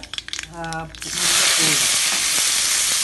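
Mustard seeds pop in hot oil in a pan, then more ingredients go in and a loud, steady sizzling frying hiss takes over, close up with faint clinks.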